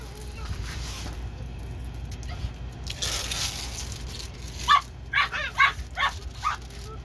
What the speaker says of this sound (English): It wants the other dogs to play and they don't want to play, so it's in there barking at them.